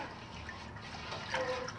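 Spring water pouring into a large stock pot for a pickle brine, a steady liquid stream that rises in loudness toward the end, with no talk.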